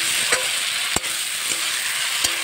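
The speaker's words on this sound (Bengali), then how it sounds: "মশলাটা কষানো হয়ে গেছে, এর মধ্যে আমি এই মাছগুলো দিয়ে দিয়েছি।" Pieces of rohu fish sizzle steadily in fried spice masala in a village kitchen, a constant loud frying hiss broken by a few soft clicks of stirring.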